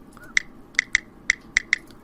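Text-messaging sound effect from a media library: a quick series of six bright, crisp electronic blips in an uneven rhythm, clean and alone.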